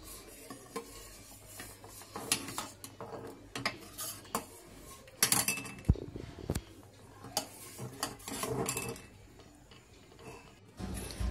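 A spoon stirring vanilla custard in a pan, steady scraping and clinking of metal against the pot with a few louder knocks, close up and continuous, no talking.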